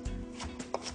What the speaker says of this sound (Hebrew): אני לוקח חופן גדול של פטרוזיליה, קוצץ אותו גס